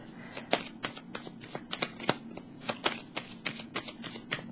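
Tarot cards are drawn and handled during a Gemini reading with a rapid flutter of papery flicks and snaps, close and moderately quiet, continuing steadily for several seconds.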